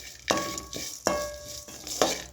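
Something roasting in a pan until reddish brown is stirred, with a soft sizzle beneath three evenly spaced metallic scrapes and clinks of a utensil against the pan, close and with no talk.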